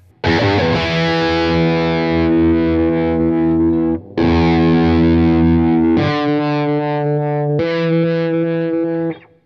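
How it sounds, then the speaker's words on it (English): A Schecter Nick Johnston electric guitar played through overdrive, with several long sustained chords struck in turn while the tone control sweeps from 0 to 100, the timbre shifting from closed and dark to bright; close, loud, and without speech. "That's manipulating the tone control from 0 to 100."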